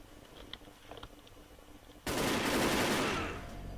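Sustained automatic gunfire from the online shooter game Wolfteam bursts in loudly after a quieter stretch of faint game sounds and keeps going for under two seconds.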